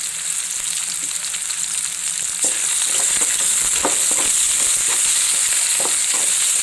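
Onions and curry leaves sizzle loudly in a pan for North Karnataka potato curry, a dense continuous crackle with scraping stirs of a spatula that grow busier partway through.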